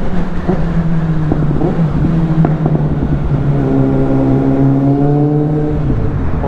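A Mercedes-AMG A45 S on the road gives a droning exhaust note with a steady hum, then revs, the tone climbing and falling near the end, loud and close.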